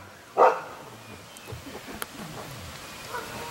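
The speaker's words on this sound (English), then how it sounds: "You're barking a lot." A single sharp dog bark near the start, then a quiet room with faint scattered ticks and a soft patter in the background.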